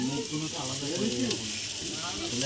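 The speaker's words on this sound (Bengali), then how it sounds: "তো এবার আমরা মাংসটা দিয়ে দেবো" Mutton pieces dropped into a hot pan of fried spice paste for a Bengali mutton curry, giving a steady broad sizzle and hiss that runs throughout, with low clatter and some background voice underneath.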